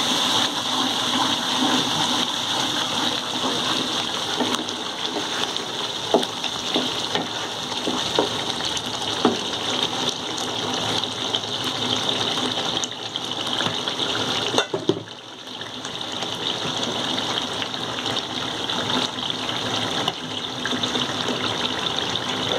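Potato pieces frying in a hot pan give a steady, dense hiss and sizzle that carries on unbroken at close range, with a brief dip partway through before the crackle resumes.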